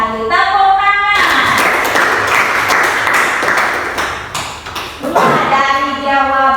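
A classroom of students breaks into dense applause for about four seconds, with a teacher's voice heard just before and just after the clapping.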